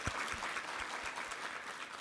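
Applause from a church congregation at a Sunday service, a continuous wash of clapping in a reverberant hall, steady and fairly loud.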